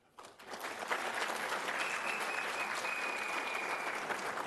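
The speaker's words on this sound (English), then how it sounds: "I would want all of you to support me with a big round of applause." Audience at a graduation ceremony breaks into applause, rising quickly from near silence into sustained, dense clapping that fills the hall and carries on steadily to the end.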